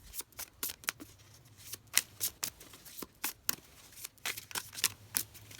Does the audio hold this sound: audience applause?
no